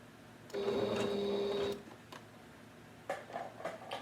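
A Singer Heritage sewing machine runs a zig zag stitch in one steady whirring burst of about a second, with a distinct tone, followed by light handling clicks and fabric rustle close by.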